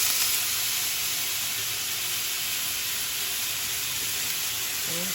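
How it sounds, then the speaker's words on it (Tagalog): Squash sautés in a hot pan with browned aromatics for a Filipino vegetable dish, giving a loud, steady, close hiss and sizzle throughout without a break. "ilagay na natin yung kalabasa."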